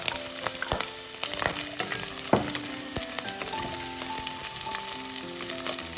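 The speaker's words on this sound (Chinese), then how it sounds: "倒入腊肉，翻炒均匀。" Cured pork and dried scallops stir-fried over high heat with garlic slices in oil, giving a steady loud sizzle broken by repeated clinks and scrapes of a spatula against the wok.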